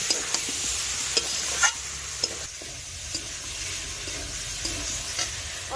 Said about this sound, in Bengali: এবার সিদ্ধ করা এঁচোড়টা আমি দিয়ে দেব। ভালো করে কষিয়ে নেব।